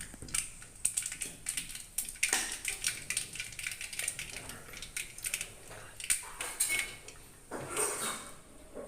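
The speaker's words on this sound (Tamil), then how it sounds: "கடுகு பொரியிற முடி கொஞ்ச நேரம் வெயிட் பண்ணுங்கள்." Mustard seeds splutter and pop in hot oil in a pan, giving a dense run of sharp, irregular crackles that stays fairly close and steady, with no voices.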